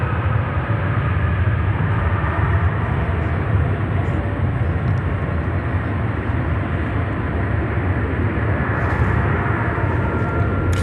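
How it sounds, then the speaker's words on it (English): A Turkish Airlines wide-body jet taxis and departs, a loud steady engine roar that holds without pause from start to finish, heard from a distance with no break in the rumble. "And Turkish is also taxiing. So, yeah, wide body departure."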